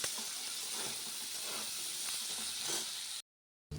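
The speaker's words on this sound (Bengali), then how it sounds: "তেলের মধ্যে আলুটা দিয়ে দিলাম আলুটা ভাজা হোক" Potatoes fry in hot oil with black cumin, giving a steady, close hissing sizzle that runs evenly before stopping suddenly.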